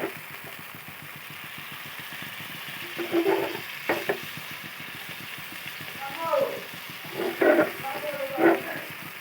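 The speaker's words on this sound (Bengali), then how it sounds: "কড়াইটাকে একটু ঘুরাই ঘুরাই দিতে হবে" Food being stirred in a wok on a clay stove over a low steady sizzle, with scraping strokes and a voice speaking briefly now and then.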